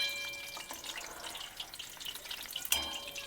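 A soft, steady crackle of frying in oil, fairly faint, with occasional spoon scrapes and a small clink near the end.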